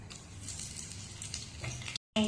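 Bay leaves dropped into hot oil in a wok sizzle and crackle steadily, close and fairly loud, before a brief silence and a sharp return of the frying hiss.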